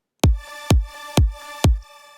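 Super saw synth run through an arpeggiator in chord mode hits four loud, evenly spaced full-chord stabs, each with a punchy low attack and a short, bright decay, with no voices over it.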